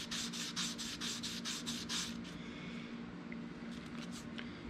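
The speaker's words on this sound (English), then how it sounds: "it really does a great job of following up the number 800 grit sandpaper" Fine 1200 to 1500 grit sandpaper rubs across archtop guitar wood in about eight quick, even back-and-forth strokes, close and distinct, before falling to near quiet.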